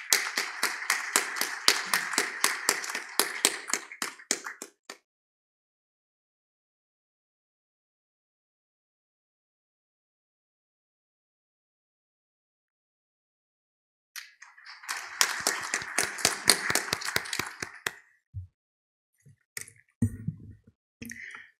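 Audience clapping at a foundation's symposium opening ceremony as the National Assembly deputy speaker is welcomed to the podium: a fairly close burst of applause, a long silent gap, then a second burst that fades into faint thumps.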